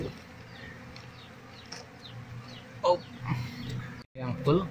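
Apis cerana honeybees buzz around a hive during a honey harvest, a faint, continuous hum under scattered handling noises and nearby voices.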